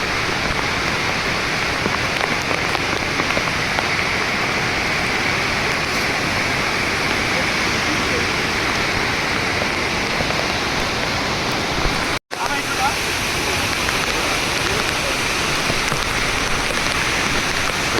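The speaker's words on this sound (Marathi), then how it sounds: "कसला झोत पडतोय खालती पाण्याचा." Water gushes down in a heavy, waterfall-like cascade somewhere in the Konkan countryside, a loud, unbroken roar that runs the whole time except for one brief dropout midway.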